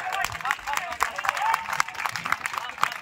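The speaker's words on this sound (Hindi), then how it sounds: "एक बार पुरजोर तालियां हो जाए।" Audience applause at a poetry recital, a broad wash of clapping from a crowd with a few sharper claps standing out and faint voices mixed in underneath.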